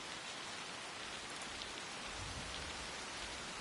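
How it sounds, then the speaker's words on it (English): Steady rain falls throughout a scene in Assassin's Creed Shadows, a dense, even hiss of drops on surfaces with no pauses and no voices over it. "If it wasn't raining"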